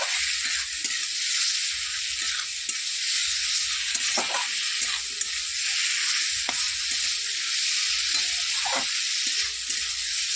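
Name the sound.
stirring fried potato and cauliflower in pan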